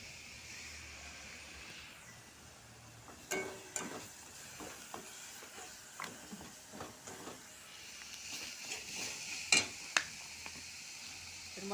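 Bengali masala paste for katla kaliya sizzles softly in the pan while being sautéed, a low steady hiss broken by scattered scrapes and taps of stirring.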